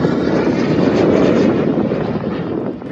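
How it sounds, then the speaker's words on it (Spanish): A remote-controlled model jet aircraft's turbine engine gives a loud, steady roar at a miniature-plane flying field, holding close and strong throughout before easing off slightly near the end, with no talking. "Esta persona, este miembro, va a despegar el jet nuevamente."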